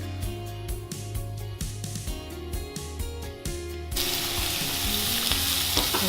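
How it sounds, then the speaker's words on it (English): Steak sizzles in a frying pan, crackling and spitting, then swells into a louder, fuller hiss partway through as the cooking intensifies. "And you want to hear that sizzle again."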